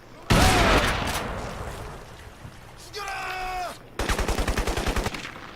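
Gunfire in the shooter Crysis, with a loud burst up front, quieter shots after it and a rapid closing volley of evenly spaced shots.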